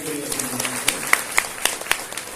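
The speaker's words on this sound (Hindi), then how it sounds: "आप सब ताली बजा करके" Sparse clapping from an audience at a religious discourse gathering, with a few distinct sharp claps standing out over a murmur and a voice speaking at the start.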